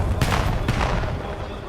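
Gunfire and explosive blasts from a Call of Duty: Black Ops 7 esports finals match, with sharp bursts near the start and around two-thirds of a second in, over dense game noise and commentator talk.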